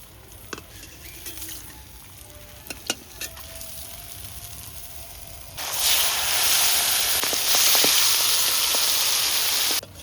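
Pomfret fish fry crisp in a pan, a steady sizzle with scattered pops that swells into a louder, hissing crackle halfway through and holds until the end.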